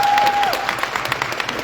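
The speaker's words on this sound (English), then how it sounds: "Can we just give them a round of applause?" Audience applause at a talk for content creators from Lesotho, a dense wash of many hands clapping that starts loud and eases slightly, with a faint tone fading early on.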